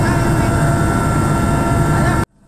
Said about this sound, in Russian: Вертолет садится рядом с деревней Щелина.